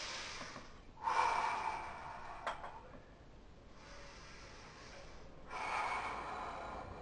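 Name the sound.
two-stage breathing during bodybuilding posing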